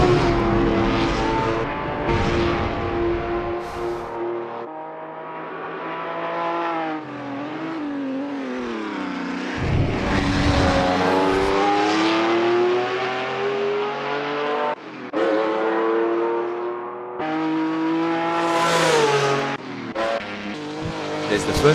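A historic race car drives a flying lap in Assetto Corsa. Its engine revs and drops with each gear change and corner, loud and continuous, with tyre squeal along the way.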